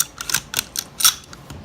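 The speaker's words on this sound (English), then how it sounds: "you just gotta press down on the bolt lock," On a VFC M27 IAR airsoft rifle, pressing the bolt lock sends the bolt locking back with a quick series of small, sharp metallic clicks, close and fairly quiet over about a second and a half.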